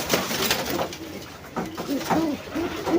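Pigeons coo in a loft, with several soft, rolling calls repeating near the listener over a faint background of wing and cage noise.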